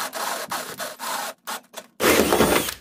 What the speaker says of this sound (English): I'm going to come back with my Ryobi with a 1 inch hole saw